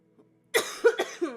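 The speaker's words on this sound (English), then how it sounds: "Sorry for the coughing." A person coughs several times in quick succession, close and fairly loud, after a near-silent moment, with a small throat noise at the start.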